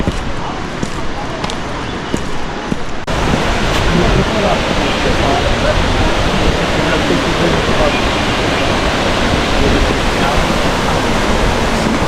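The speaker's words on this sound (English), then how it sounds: "this is supposed to be the biggest waterfall during the rainy season" A large waterfall in the dry season near Da Lat, Vietnam, its flow reduced by an upstream dam, gives a dense, steady rush of falling water that swells louder after a few seconds and continues without a break.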